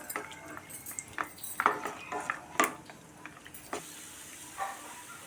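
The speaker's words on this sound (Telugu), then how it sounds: "ఇప్పుడు నేతిలో జీడిపప్పు కిస్మిస్ కొంచెం దోరగా వేయించి తీసుకోవాలి." Cashews and raisins frying in ghee in a pan, a soft sizzle beneath repeated clinks and scrapes of a metal spoon stirring against the pan, with a few sharper taps standing out.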